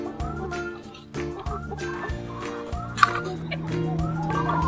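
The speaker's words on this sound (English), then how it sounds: "So the chickens are going to enjoy their food." Chickens clucking and calling while being fed, several birds close by with overlapping, irregular vocalizations amid rustling and light background activity throughout.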